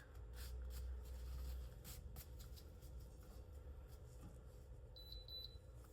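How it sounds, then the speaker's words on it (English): A short series of quick high-pitched electronic beeps from a resin warmer's timer near the end, faint, over quiet rustling and handling noises. "that beep is just my resin warmer telling me time's up"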